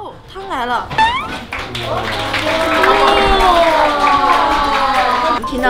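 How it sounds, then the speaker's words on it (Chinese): Clapping and cheering carry through from a neighbouring room during a restaurant meal, a steady crowd-like wash that rises and holds, while voices and singing-like talk sit over it. "隔壁都在给我们鼓掌。"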